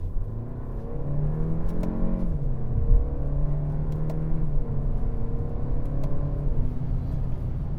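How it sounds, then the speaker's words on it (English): The turbocharged engine of a 2025 Kia K4 GT-Line revs up while driving, rising and falling in pitch through several sweeps over a road rumble inside the cabin, with no talking. "This engine does like to rev, even at lower speeds, lower RPMs."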